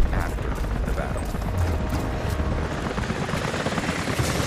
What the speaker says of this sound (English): helicopters are headed your way